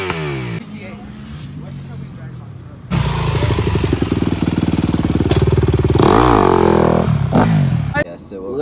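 A motorcycle engine revving hard up to the rev limiter, a loud buzzing drone that climbs and holds with stuttering pulses, with people talking over it.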